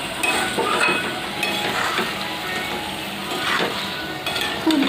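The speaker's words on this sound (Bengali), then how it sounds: "onion and tomato paste. Okay, then I stir it" Onion and tomato paste being stirred in a pan: a steady soft sizzle with scraping and light clinks of a utensil against the pan, continuous and close, with no one talking.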